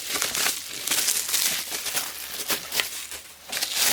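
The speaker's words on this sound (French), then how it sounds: "j'ai enlevé tous les papiers à bulles" Bubble wrap is pulled off a package of Bioderma pharmacy products, giving a close, steady crinkling and rustling with a few sharper crackles and no talk.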